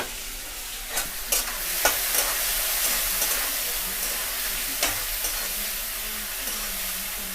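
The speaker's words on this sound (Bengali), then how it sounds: "2 মিনিটের মতন আমরা চিংড়ি মাছটাকে ভালো করে হালকা করে ভেজে তুলে নেব" Prawns seasoned with salt and turmeric fry in a pan with a constant, hissing sizzle close by. A few sharp clinks and scrapes of stirring punctuate it, and no voices are heard.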